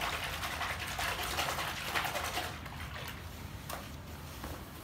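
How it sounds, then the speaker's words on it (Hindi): Ordinary detergent is poured into water for hand-washing a king-size bedsheet, giving a faint, steady gushing and splashing of liquid that eases off slightly toward the end. "जो भी आप नॉर्मल डिटर्जेंट यूज़ करते हैं वो पानी के अंदर डालें"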